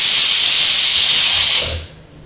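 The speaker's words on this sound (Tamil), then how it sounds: "நம்ம பேசிகிட்டே இருக்கச்ச குக்கர் விசில் வந்துடுது" Pressure cooker whistle on a kitchen stove, cooking an agathi keerai and lentil dish, lets out one loud, sustained steam hiss that cuts off abruptly near the end, with nothing else around it.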